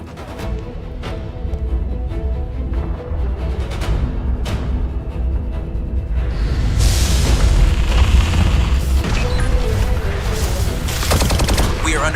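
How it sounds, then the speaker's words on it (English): Heavy fusillades of gunfire and booming explosions from a Dragon Ball Z battle scene rumble densely and loudly, building into a sustained barrage in the second half, with a voice faintly present. "We are under heavy fire and systems failing."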